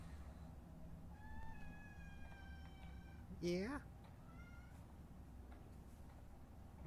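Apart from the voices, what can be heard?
cat meowing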